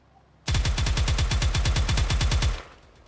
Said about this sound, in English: Bro, I'm gonna shoot that island.